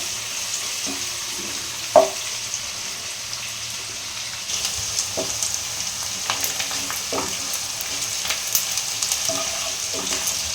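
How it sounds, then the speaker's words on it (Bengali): Onions and green chillies frying in a pan for a fish-head cabbage curry, a soft continuous sizzle broken by a few sharp clinks of a spatula stirring. "পেঁয়াজটা যাতে একটু লাল লাল হয় হ্যাঁ পেঁয়াজটা যেন একটু লাল হয় লঙ্কাটাও ভাজাবে"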